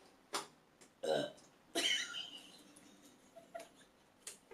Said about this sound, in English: I'm just burping up cucumbers